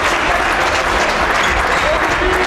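Handball spectators in a men's NB II match between Tiszavasvári SE and Gyöngyös U23 applaud in a dense, steady patter of clapping that fills the whole stretch at an even level.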